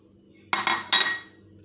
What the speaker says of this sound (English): Here the sauce which I have prepared, I will slide all these fritters in the sauce.